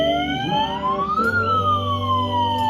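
A siren wails nearby at a vigil, its tone sweeping up and then back down, with a steady low engine rumble underneath.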